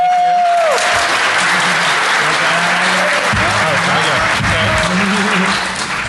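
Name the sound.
audience applause for speaker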